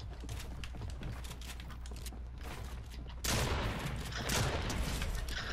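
Gunfire in the online shooter game Fortnite, dense rapid volleys of shots that swell into a louder, harsher burst partway through, heard close and continuous.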